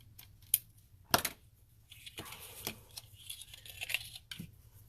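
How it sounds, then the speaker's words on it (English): Scissors cut through lace for a mixed media canvas project, sharp close snips and crisp clicks in an irregular run, with light rustling of the lace in between. "So I'm just going to cut my lace."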